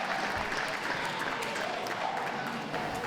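Spectators at a championship dog show ring give a steady round of applause, a dense and fairly distant wash of clapping with no break over about three seconds.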